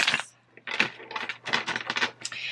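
A deck of tarot cards is shuffled up close, giving a series of papery, riffling bursts that come in quick uneven clusters, with short pauses between them and no voices.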